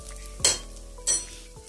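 Hot oil with asafoetida and ground roasted fenugreek seeds in a pan for mixed vegetable pickle, a quiet low hum broken by two brief bursts of sizzling scrapes.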